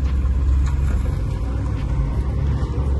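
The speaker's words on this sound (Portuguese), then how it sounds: "pneu do truque tá arrastando demais" A truck's bogie tyre drags along the road, a loud, steady low rumble of engine and road noise that runs without a break and is heard alone.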